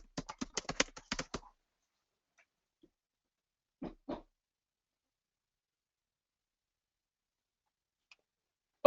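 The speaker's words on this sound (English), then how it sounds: "and type in the link" Typing on a computer keyboard: a quick burst of about a dozen crisp keystrokes, then isolated faint clicks after long silences, close and quiet with no talking.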